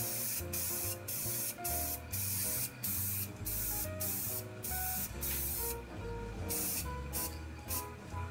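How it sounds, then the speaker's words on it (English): An aerosol can of flat crystal clear Krylon sealer sprays a light coat in repeated short hissing bursts with brief pauses between them, close to the microphone, over background music. "a few light coats of this flat crystal clear Krylon, and just to seal it some more"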